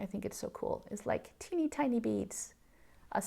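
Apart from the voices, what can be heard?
No distinct noise like a dog, phone or traffic.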